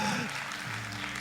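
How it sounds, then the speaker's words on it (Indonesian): A church congregation claps, a brief, fairly faint patter of applause filling the room. "Ya, kasih tepuk tangan."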